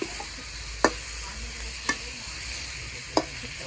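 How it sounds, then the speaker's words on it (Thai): Premium fattened beef stir-fried for Thai basil beef (kaprao), a steady sizzle over a low hum, broken by three sharp clinks of a spatula against the pan. Close, and no talking. "ผัดไปเรื่อยๆเรื่อยๆไม่ต้องสุกมาก"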